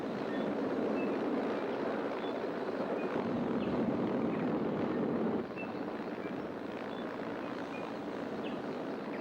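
A helicopter used for heli harvesting of indigenous timber produces a steady, continuous rotor and engine rumble, moderately distant and mixed with wind noise. No one speaks.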